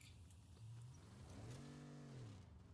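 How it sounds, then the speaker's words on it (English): A car engine in Fortnite revs and rises in pitch nearby, a smooth motor whine swelling then easing off over a low background hum. "There is a car nearby."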